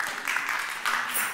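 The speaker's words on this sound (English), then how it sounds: "I think a bit of applause for that" Brief applause from a church congregation during a recorded service, a short burst of scattered clapping from the room.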